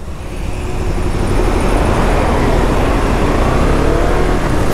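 A KTM 250 Adventure motorcycle engine pulls in first gear with a steady, loud, continuous roar that builds slightly and then holds, with no talking.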